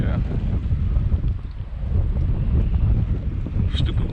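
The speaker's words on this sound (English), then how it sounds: "Stupid windy out here." Strong wind buffets the microphone in a constant roar while a kayak angler fishes a barge canal, with water lapping around the boat and no speech.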